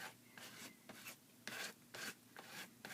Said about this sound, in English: I'm going to scrape hard to try to get some of the color up